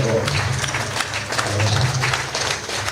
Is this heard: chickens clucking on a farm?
no